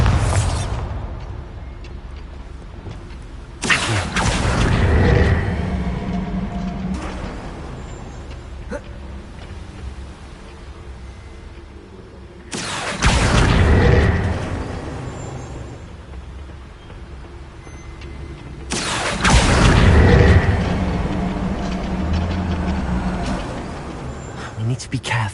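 Bombarda spell blasts in the fantasy game Hogwarts Legacy, inside a mine: three heavy booming explosions spaced several seconds apart, each decaying into rumble, with game dialogue and ambience in between.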